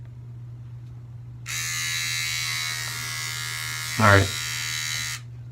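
A Durablade electric razor hums steadily and close for several seconds, shaving against the grain, with a brief coarser bump as it passes over stubble; a low mains hum sits underneath and a voice speaks briefly.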